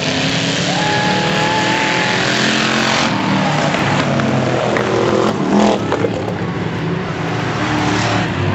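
Demolition derby cars at Port Angeles Speedway in 2009, one a V8, roaring off the line together at a race start, a loud, steady wall of engine noise with revving that swells and shifts as the pack gets moving.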